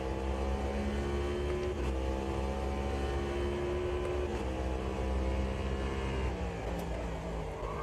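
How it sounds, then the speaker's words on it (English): A trophy truck engine drones steadily in the Automobilista 2 racing game, reverberating as it runs close alongside a pit wall, a continuous loud hum with small pitch shifts. "the reverb when you're driving close to the pit wall or something really sounds nice"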